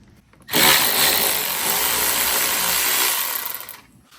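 Power driver with a T30 bit backing out door latch screws on a 2017 Toyota Corolla iM, a loud steady whirring burst of about three seconds, close up, with no talking.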